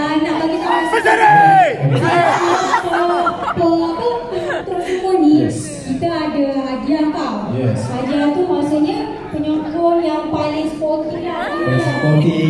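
A large crowd of children and adults at a university arts festival in a hall cheers and shouts, with voices rising in waves and excited chatter, loud and close throughout.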